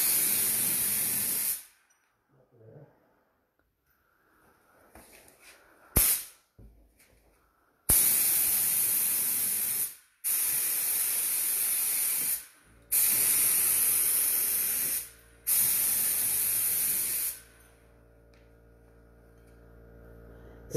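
A Husky sprayer from Home Depot sprays clear coat over patina paint in several loud, sustained hissing bursts separated by short silences, with a brief mechanical click and a faint hum near the end.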